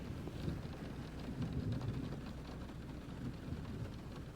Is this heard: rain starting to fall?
yes